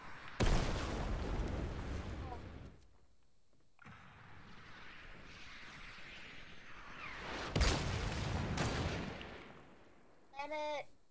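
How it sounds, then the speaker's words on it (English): Gunfire and bomb-like explosions in a chaotic game fight over a hill, with dense bursts of blasts and shots coming in loud waves, a quieter stretch of distant rumble between them, and a short burst near the end. "They're on the hill. They're bombing our house."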